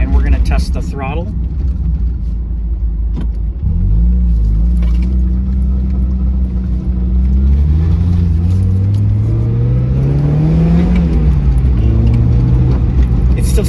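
Mazda Miata engine revved during a throttle test with a sticking throttle, a close rumbling idle that rises into a sustained rev around the middle, climbs further, then drops back, loud and continuous.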